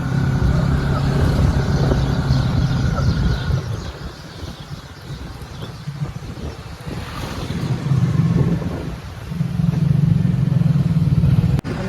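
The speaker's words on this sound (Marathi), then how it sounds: "यांनी खूप सुसाट गाडी घेतली आहे" A car speeding on the road toward Wada beyond Palghar gives a loud, steady rush of engine and road noise, heavily buffeted by wind, swelling and easing as it travels.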